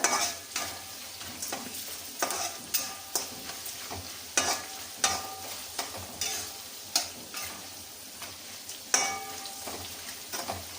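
A spatula stirs capsicum lemon rice frying in a pan: a continuous sizzle with regular scraping strokes and clinks about once a second, heard close and without talk.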